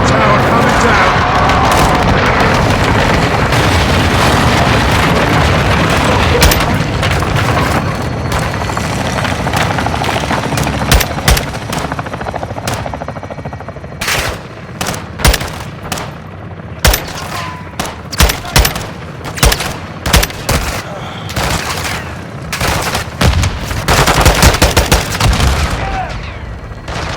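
A strike and gunfire bring a tower down in Modern Warfare II: loud rumbling explosions, then a string of sharp gunshots and booms in irregular bursts, with voices speaking amid the combat.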